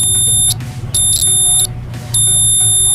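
Multimeter in continuity mode sounding its alarm, a loud, close, high-pitched electronic beep repeating in several on-off bursts over low background hum.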